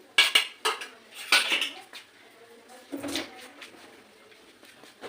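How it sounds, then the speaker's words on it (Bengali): Green chilli is crushed with a stone pestle (nora), giving a few sharp knocking and clattering hits early on, then quieter grinding scrapes, close and intermittent, with a voice talking at times. "এইটা লঙ্কাটাকে আমি নোড়া দিয়ে থেতো করে ক্রাশ করে দিচ্ছি"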